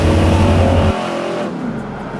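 Loud, close engine rumble from a 1959 Chevrolet Viking 40 short bus converted into a rat-rod camper, a deep steady drone that drops off abruptly partway through and leaves a quieter idle.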